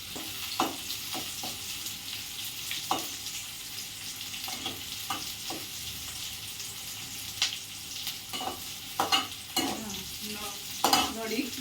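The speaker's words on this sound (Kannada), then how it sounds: "ಗೋಲ್ಡನ್ ಕಲರ್ ಬರಬೇಕು ಆ ಥರ ಫ್ರೈ ಮಾಡ್ಕೊಳ್ಳಿ" Ingredients for chicken curry frying in a pan until golden, a soft sizzle under repeated scrapes and clinks of a spoon stirring against the pan, fairly quiet and close.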